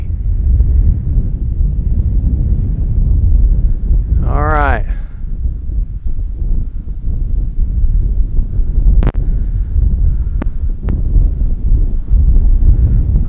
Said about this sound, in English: Man, is it windy.